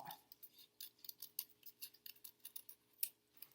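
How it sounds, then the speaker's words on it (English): Scissors cutting a half circle out of an egg carton: a quick run of quiet, close, crisp snips and crunches in an uneven rhythm, about a dozen cuts, with no talk. "I take my scissors and I'm going to cut out half of a circle"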